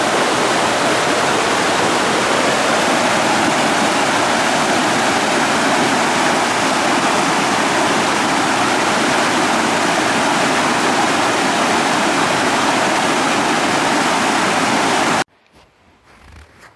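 Rushing river water on a hike up Owl's Head Mountain in New Hampshire roars loud and steady, a dense unbroken wash that cuts off abruptly near the end, leaving quiet rustling.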